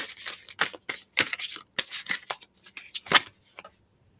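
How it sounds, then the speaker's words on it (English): A deck of tarot cards being shuffled by hand, a run of quick, close riffling and snapping bursts in uneven rhythm, with no talking. "Sorry, I just realized I wasn't shuffling on camera."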